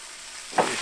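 Chunks of lamb hit a hot pot for plov over strong heat, setting off a sudden loud sizzle near the end that settles into a steady frying hiss.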